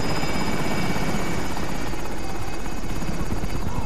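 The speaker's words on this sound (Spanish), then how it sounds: "Helicópteros de ataque" An attack helicopter in Call of Duty: Modern Warfare thunders loud and continuous, its rotor thump and turbine whine filling the whole stretch with no voices.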